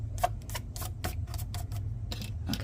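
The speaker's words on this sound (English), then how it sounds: "So we're going to go ahead and cut these now." Repeated crisp snips of scissors cutting paper for a Miura fold, about ten short bursts in an uneven rhythm over a low steady background hum, close and moderately quiet with no talking.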